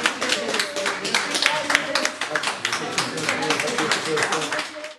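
Applause breaks out as a recovered patient is sent home from Tunceli State Hospital, a dense run of hand claps throughout, fairly close and steady with crowd murmur mixed in.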